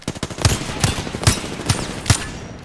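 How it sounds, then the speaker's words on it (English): Weapon fire in the game Apex Legends, with rapid repeated gunshots and about five heavier punchy blasts spaced roughly every half second, loud and close with no talking. "Shoot your weapons and throw like one of each of your grenades"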